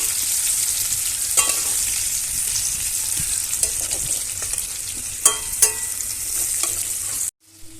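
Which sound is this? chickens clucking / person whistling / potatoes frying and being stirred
potatoes frying and being stirred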